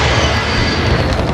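An air strike in Modern Warfare gameplay on PS5 produces a loud, sustained explosive roar that fills the whole brief moment with dense, rumbling blast noise.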